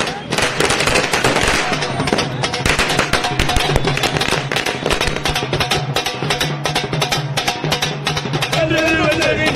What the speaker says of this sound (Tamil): இனிப்புகள் வழங்கியும் பட்டாசுகள் வெடித்தும் தங்களது மகிழ்ச்சியை அவர்கள் வெளிப்படுத்தினர்